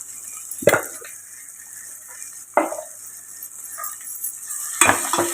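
Cooked chicken pieces being stirred with chili powder in a pan, three distinct scraping clacks of a spoon against metal spaced apart over a soft sizzle, with no talking.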